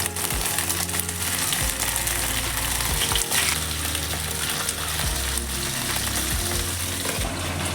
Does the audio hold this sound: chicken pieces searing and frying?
yes